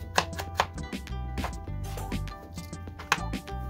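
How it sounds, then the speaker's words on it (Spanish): A knife finely chopping green chili pepper on a board, a fast steady run of close, crisp chops with a few louder strikes, no talking. "También voy a estar picando un chile verde o pimiento, finamente picado."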